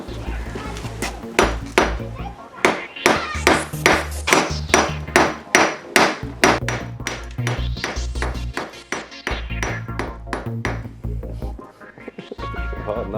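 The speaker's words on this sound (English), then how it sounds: "this is possibly a cannonball. We're going to tap it open and see what's inside" A hammer taps again and again at a suspected old cannonball, a quick run of sharp metallic pings with a steady rhythm that slows in places, close and loud, with some talk in the background.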